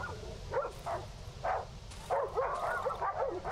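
A pregnant dog in the Darkwood video game whines and yips in short, repeated high whimpers. It is fairly close and broken by pauses, with a longer run of whining near the end over a low ambient background.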